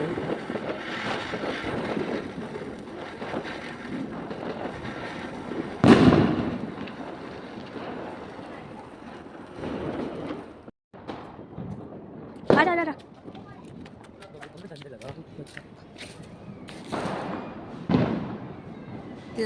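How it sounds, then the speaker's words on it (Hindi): Diwali fireworks at night, with anar fountains hissing and small chakri spinners whirling, broken by several sharp pops and bursts over gusty wind while people talk throughout. "एक और अनार, एक और चक्री जलाई छोटी वाली प्यारी सी।"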